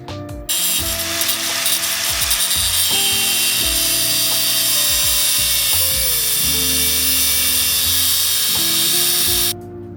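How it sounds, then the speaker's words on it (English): A rotary tool shaves down a rubber bump stop on a Nissan 350Z drift car, its loud, high whine running steadily and shifting pitch as it bites and lifts, starting and stopping abruptly. "So we're gonna shave a little bit of this bump stop down"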